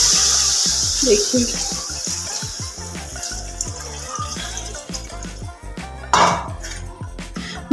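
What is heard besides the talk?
water being poured into a pot for Maggi noodles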